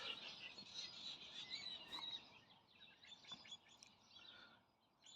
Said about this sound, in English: Still heaps of bird life.